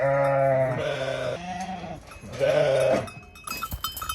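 Sheep bleat loudly in a few long, wavering calls close by, followed by a brief clatter.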